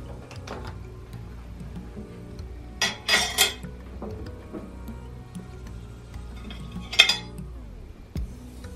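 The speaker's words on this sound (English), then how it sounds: "So I'm gonna stir it in here for a minute." Ingredients stirred with a utensil in a hot pan with olive oil, giving quiet scattered clinks and scrapes against the metal over a low background hum, with a few sharper clusters of taps.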